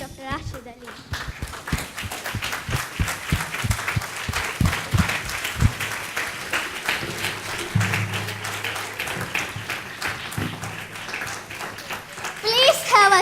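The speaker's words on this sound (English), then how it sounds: "please stand up and make a big applause for His Excellency Dr. Rashid Aleem" A standing audience applauds Dr. Rashid Aleem, with scattered claps building into sustained clapping by a crowd that includes children's voices, while people talk over it and a louder burst comes near the end.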